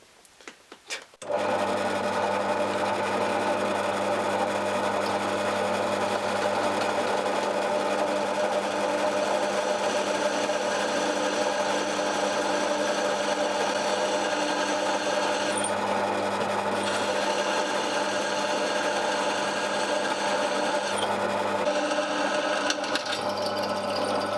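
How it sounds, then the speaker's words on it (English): A drill press bores into metal clamped down without a vice, a steady loud motor whine with a grinding cutting tone that runs continuously, briefly easing and shifting pitch a couple of times. "Just going to get the tip of the drill in the centre"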